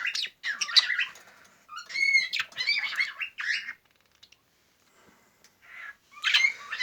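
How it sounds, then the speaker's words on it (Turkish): A male budgerigar squawks inside a nest box, loud harsh chirps in rapid bursts, a brief lull, then another burst of calls close by. "erkek muhabbet kuşumuz aslında çok sinirli"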